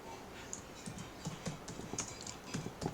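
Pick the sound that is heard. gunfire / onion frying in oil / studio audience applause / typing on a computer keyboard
typing on a computer keyboard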